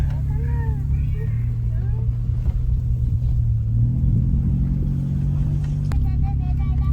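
A car grinding along a rocky, bumpy, narrow road on the way to a coffee camp, steady low engine rumble with occasional jolts, while a voice talks over it.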